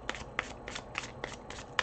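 Standard-size tarot cards riffle-shuffled in several quick bursts, crisp papery flutters with small snaps, close and alone with no talking.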